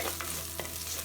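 Spice paste of ground onion and cumin frying in oil for a village-style fish curry, a brief, steady close sizzle marked by a couple of soft spoon scrapes as it is stirred.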